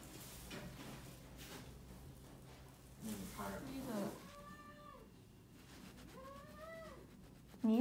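An orange cat at a hospital gives several clear drawn-out meows near the end, close up, after a stretch of background chatter from people nearby.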